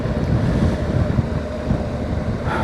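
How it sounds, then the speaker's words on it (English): Wind gusting across an exposed, cold spot at Dorrigo, a loud continuous roar and buffeting against the microphone with no voices. "it's a bit windy and cold here"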